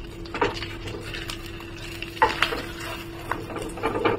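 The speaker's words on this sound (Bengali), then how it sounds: "আমার যা কড়াই তেতে গেছে, তাতে আজকে ডিম লালই হয়ে যাবে" An egg fries in a very hot wok (kadai), a low steady sizzle running throughout with a few sharper scraping and stirring knocks near and in front, no voices.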